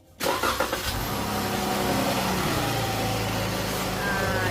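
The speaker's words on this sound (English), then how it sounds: "Press on the brake and start the engine." A 2011-or-later Chrysler 300 cranks briefly and catches, its engine settling into a steady, close idle that hums on without a break.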